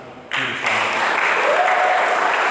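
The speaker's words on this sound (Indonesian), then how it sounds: "Tepuk tangan." A church congregation breaks into applause at a Christmas service, a sudden broad wash of clapping that starts abruptly and holds steady, with a faint voice and a tonal sound beneath.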